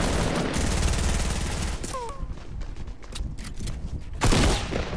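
Rapid bursts of automatic gunfire crackle in the Squad video game, dense and continuous at first, then briefly thinning before another heavy volley near the end, loud and close with no talk over it.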